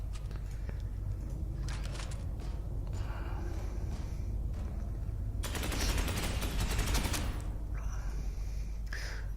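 Gunfire rattles in the Space Hulk: Ascension video game, bursts of rapid automatic shots in two or three stretches over a steady low hum, fairly quiet and without talking.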